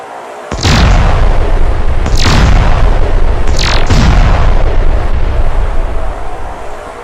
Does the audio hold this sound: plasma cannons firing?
yes